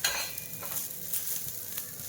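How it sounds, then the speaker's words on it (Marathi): Coriander and cumin stirred and fried in a hot pan for a home-style mutton dish, a bright close sizzle with repeated spatula scrapes across the pan, alone without talk. "कोथिंबीर चांगली गरम करून घ्यायचंय."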